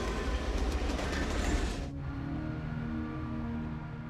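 A train runs on railway tracks with a loud, steady rumble and rattle, which drops abruptly in brightness partway through to a duller, continuous rolling roar with no voices.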